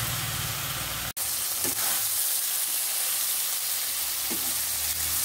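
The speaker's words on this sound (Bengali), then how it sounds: "আমি গরম জল দিয়ে দিয়ে আলুগুলোকে ভালোভাবে মশলার সঙ্গে ভেজে নিয়েছি" Potatoes fry in a spicy masala paste, loosened with splashes of hot water, for a Bengali fish-head curry. A steady close sizzle with scraping stirs breaks off sharply for an instant, then carries on.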